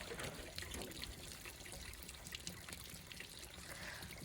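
Water draining from a camper's water system during winterizing: a faint, steady trickling and dribbling of water runs continuously, quiet and without talk.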